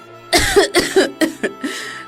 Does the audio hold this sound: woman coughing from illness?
yes